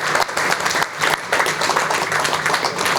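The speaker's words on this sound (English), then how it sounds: "So if we could give them another round of applause" A room at a city council meeting in Portsmouth, Virginia breaks into applause, a sustained wash of many hands clapping with uneven swells and dips, loud and close throughout.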